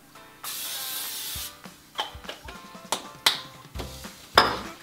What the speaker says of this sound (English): Spray your oven pan with some Pam.